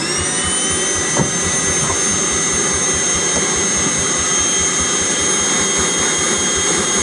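A Milwaukee compact vacuum runs steadily nearby with a loud, even whining roar as it sucks up dirt, with a faint brief knock partway through and no talking.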